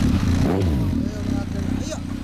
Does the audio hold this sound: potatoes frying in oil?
no